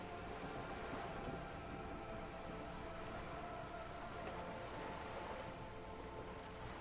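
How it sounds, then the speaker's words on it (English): Steady rain falls in the video game Disco Elysium, pattering on wooden boards and surrounding water, a dense, even wash of drops that holds at the same level throughout with no voices. "rain keeps falling down. On the wooden boards she's standing on, and on the water around you."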